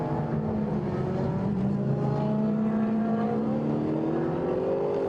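Race cars, including an Opel Corsa and a Toyota Supra, run on a circuit straight, with several engines droning and rising in pitch together at a steady, fairly close distance.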